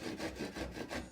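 Hand saw cutting through wood while building a planter box, with steady back-and-forth rasping strokes, about five strokes in quick rhythm, close and fairly loud.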